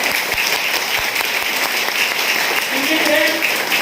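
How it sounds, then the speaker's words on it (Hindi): An audience gives sustained, loud applause for Mr. Raju, a company director, at a gathering. The clapping is dense and steady throughout, with faint voices mixed in. "मिस्टर राजू सर के लिए एक बार जोरदार ताली होना चाहिए"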